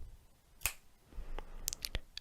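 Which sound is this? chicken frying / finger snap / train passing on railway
finger snap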